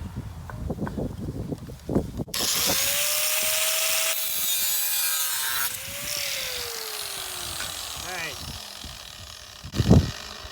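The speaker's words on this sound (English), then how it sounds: "So I cut the end off just to clean it up on the end" A hand saw cutting the end off a metal piece on a Land Rover Discovery 1 200TDI battery hood job, a steady rasping stretch of several seconds, with a voice speaking before and after.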